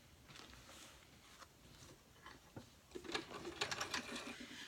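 Vintage Janome New Home DX 2015 sewing machine set on high, a quiet uneven clatter of stitching that picks up into a faster, louder run toward the end.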